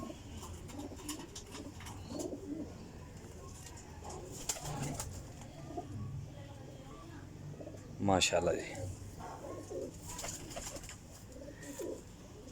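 Pigeons, including a teddy pigeon kept by a fancier, coo and call amid steady background noise while someone talks over them, with a louder burst of bird sound near the end.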